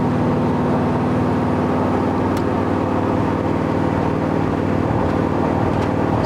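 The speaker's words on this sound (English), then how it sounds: "It's one of the coolest sounding trucks yet." A 1960 Chevrolet Apache pickup with a swapped LS9 V8 and dual-clutch transmission cruises along, its deep, even engine drone holding steady with layered harmonics and no talk.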